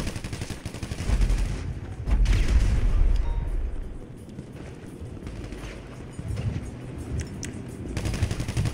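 Video-game gunfire in GTA 5, with rapid automatic bursts and thudding shots that come loud and close, easing off midway and then building again in a steady rattle.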